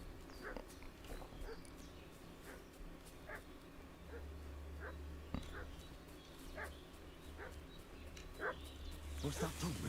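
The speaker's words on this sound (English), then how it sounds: "What's that dog making such a fuss about?" Repeated dog barks and yips echo at a moderate distance in a medieval village in Kingdom Come: Deliverance 2, spaced irregularly over steady ambient game noise, with a louder burst near the end.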